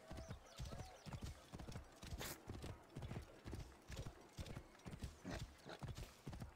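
Horse hooves clip-clop in a steady walking rhythm in the video game Assassin's Creed Origins, close and clear over a faint ambient bed, with no speech.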